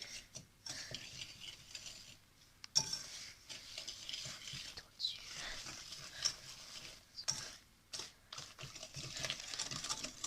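Brown sugar is whisked with other ingredients for a flan pâtissier, giving close, quick rattling scrapes of a whisk against a bowl in uneven bursts with brief pauses.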